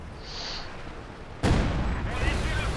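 Gunfire and an explosive burst in the real-time strategy game Company of Heroes 2, a sudden loud blast midway followed by a dense rumbling crackle of battle noise, with background game sound before it.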